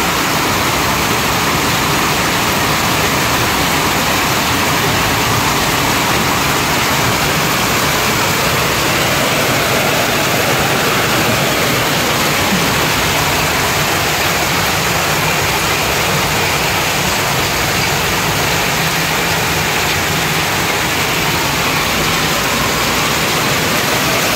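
Heavy rain pours down steadily in a broad, constant roar, loud and continuous throughout with no voices, during a downpour that quickly floods the area.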